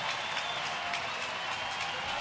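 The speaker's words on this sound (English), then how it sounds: "Crowd trying to get into this one." A sellout baseball stadium crowd at an MLB night game in Detroit applauds and cheers steadily, a dense, even wash of clapping and crowd noise filling the whole stretch without a break.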